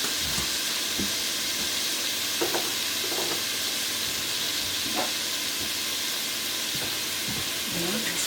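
Chicken noodle soup ingredients stirred in a pot over a loud, constant hiss of steam and sizzling, with occasional soft scrapes and knocks of the spoon, close and without voices.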